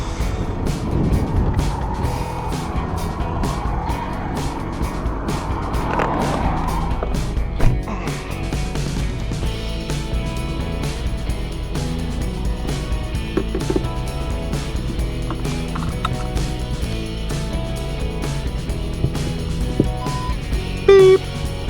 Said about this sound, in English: So it has reversing parking sensors